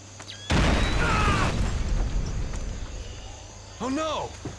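A mine detonates in the Splinter Cell stealth video game: a sudden loud broadband blast that decays over a few seconds, followed by a brief tonal in-game sound.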